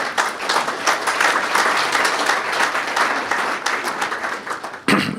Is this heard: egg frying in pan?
no